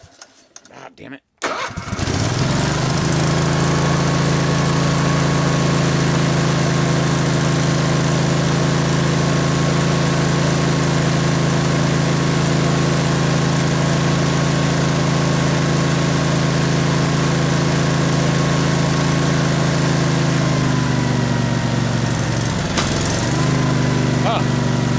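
A tractor engine catches after a brief crank and settles into a loud, steady idle that runs close and unbroken, with a short dip and recovery near the end.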